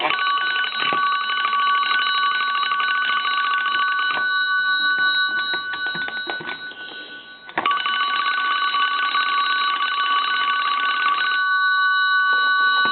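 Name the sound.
ringing bell of a restored Kellogg wood wall crank telephone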